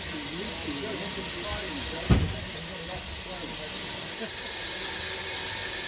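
A steam locomotive on a heritage railway hisses steadily in the background, with a sharp burst of steam mid-way, under ongoing speech.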